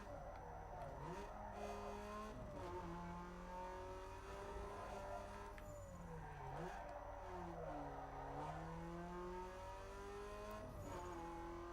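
Race cars in Need for Speed Underground 2 on the original Xbox, engines whining through rising and falling gear shifts with occasional tire squeal, loud and continuous with no talk.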